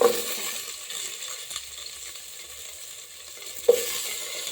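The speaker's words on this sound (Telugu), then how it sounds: "కొంచెం ఫ్రై చేద్దాం." Chopped eggplant and okra fry in a pan with a soft, steady sizzle, punctuated by a couple of sharp metallic clinks from a utensil against the pan, near and fairly quiet.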